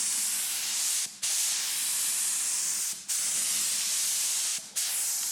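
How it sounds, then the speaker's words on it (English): An airbrush sprays paint onto a car in long, steady hissing passes. Three brief pauses split the passes, each a short gap before the spray starts again, close and even. "Here you can see me spraying the first layer of white."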